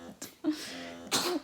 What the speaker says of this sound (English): Three sneezes.